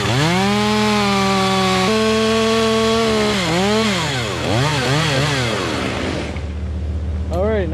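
A chainsaw cuts a notch high in a big oak tree, its engine holding a loud steady whine, then revving up and down in repeated bogging surges as the bar bites into the wood, ending with a brief rev.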